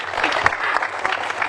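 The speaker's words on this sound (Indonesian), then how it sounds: "Saya mau dengar tepuk tangan lagi yang meriah untuk Coach Rahmat Darmawan." A crowd applauds steadily throughout, a dense wash of clapping at even loudness, with faint voices mixed underneath.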